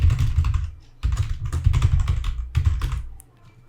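Rapid clattering keystrokes on a computer keyboard while entering an Apple ID, close and crisp, in three quick bursts separated by brief pauses, with no voices.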